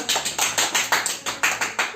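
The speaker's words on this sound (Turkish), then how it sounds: "O zaman alkışlıyoruz hocamızı." Steady rhythmic clapping for a violin teacher, a small group clapping in unison at an even beat, about four claps per second, close and moderately loud with no talk over it.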